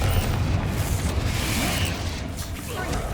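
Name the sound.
spell explosion in video game Hogwarts Legacy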